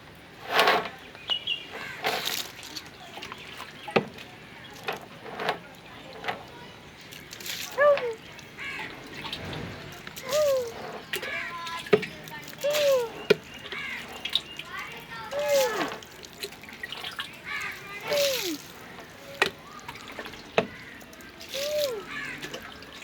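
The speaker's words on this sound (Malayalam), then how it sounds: "തലയിൽ വെള്ളം ഒഴിക്കട്ടെ." Water is poured over a head during a bath, giving repeated splashing bursts and trickles with birds chirping nearby and voices in the background.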